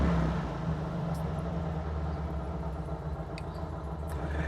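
A Porsche 356 Speedster's engine idles steadily up close, a low continuous rumble with no talk over it.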